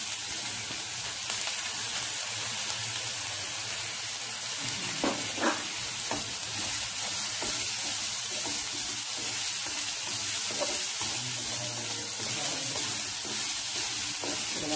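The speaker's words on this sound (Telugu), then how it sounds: "ఇంట్లో సన్నగా కట్ చేసుకున్న క్యారెట్ వేస్తున్నాను." Finely cut carrots fry in a hot pan with a steady, dense sizzle throughout, broken by a few light clicks and stirs near the middle, close and constant with no voices.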